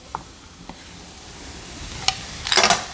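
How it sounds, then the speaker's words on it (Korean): Garlic and onion stir-frying in a pan for a seafood tomato spaghetti, with a low sizzle and a few utensil taps, then a louder burst of hissing toward the end. "마늘하고 양파하고 넣고 볶아주세요."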